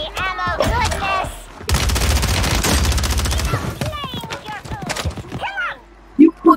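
Bursts of rapid automatic gunfire in the video game Apex Legends, a dense sustained volley in the middle with scattered shots around it, mixed with a player talking over the action.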